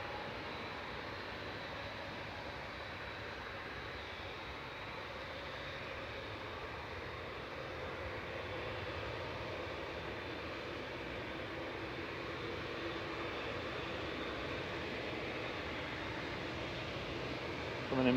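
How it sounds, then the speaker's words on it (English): A Brussels Airbus A319 airliner landing at Manchester Airport, a steady broad jet roar heard from a distance, fairly faint and continuous throughout with no clear voices. "And just landing is Brussels."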